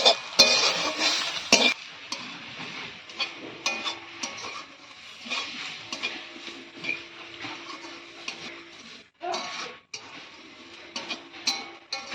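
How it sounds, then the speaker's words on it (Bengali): Grated coconut fries in a pan with a soft sizzle, broken by scraping and clinking as a spatula stirs it, close up with irregular bursts and short pauses. "তাই নারকেলটা ভেজে দিবে"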